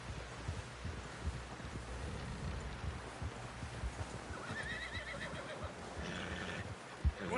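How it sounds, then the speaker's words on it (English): A horse in the video game Red Dead Redemption whinnies over steady clip-clop hooves, with a second higher neigh near the end and a low thump just before it. "Someone help John down off this horse"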